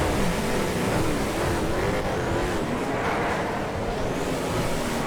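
Drag King race cars roar in a GTA FiveM street race, a loud continuous engine drone with a wavering pitch and a broad rushing wash, one car sweeping past.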